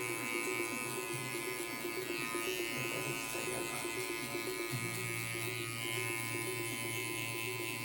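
A Babyliss SnapFX hair clipper with a number 3 guard buzzes continuously while cutting hair during a fade, a steady close electric hum with slight shifts in pitch as it moves through the hair.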